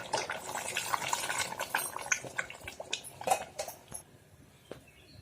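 Water is poured into a pot of country chicken curry with methi, a close splashing rush that is strongest at first and then thins out into scattered drips and bubbling within a few seconds.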